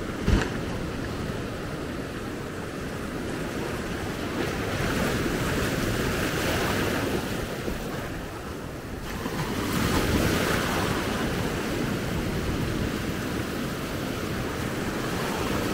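Atlantic ocean surf during a storm at Maspalomas, Gran Canaria, crashes and washes onto the shore in broad, rolling surges, mixed with gusting wind buffeting the microphone; no voices.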